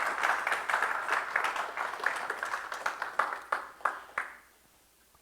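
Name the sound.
applause from church congregation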